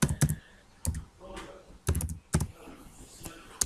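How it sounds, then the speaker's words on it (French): Keys clacking on a computer keyboard while typing a search on screen, in short close bursts of clicks separated by brief pauses, with no talking over them. "je sais pas si vous entendez le bruit du clavier"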